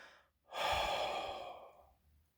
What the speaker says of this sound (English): you do breath control, where you slowly exhale out